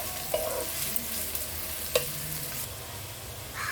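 Onions sizzle gently in a pan for mutton masala curry, a low continuous frying hiss broken by a few sharp stirring scrapes and clinks, no talking.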